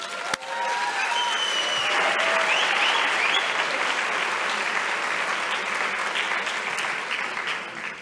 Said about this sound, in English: And I would like to applaud for you as well.